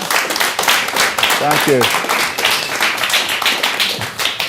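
An audience warmly welcomes a guest at a record producers' interview event with a burst of dense clapping that fills the room, while a voice speaks briefly over it.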